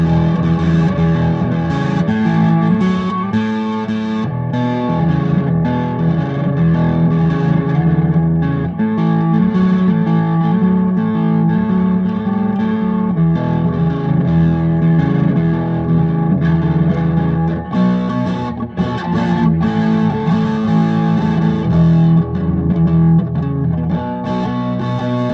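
A Gibson Les Paul Standard 60s electric guitar played with a crunchy overdriven tone and its pickups out of phase, sustained chords and riffs ringing steadily and loudly for about twenty-five seconds.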